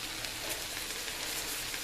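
Vegetables for a soup sizzle in a frying pan with salt and pepper, giving a steady, dense crackling hiss that is quiet and close, with no talking.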